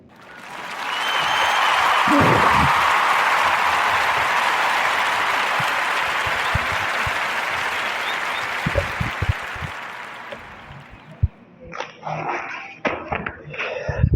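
Warm round of applause from a podcast audience: dense clapping swells quickly and holds for several seconds before thinning out, then a dog barks a few times near the end.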